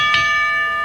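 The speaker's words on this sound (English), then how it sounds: "we get the bell again just to make sure" A wrestling ring bell at a live match rings once, loud and near, its bright tone sustaining and slowly fading over a steady background.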